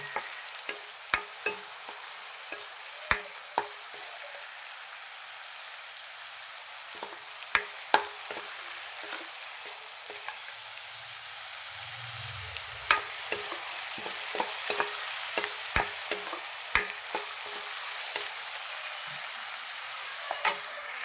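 Mushroom dish frying and stirred in a pan until browned, a faint steady hiss punctuated by sharp scattered clinks and scrapes of a spatula.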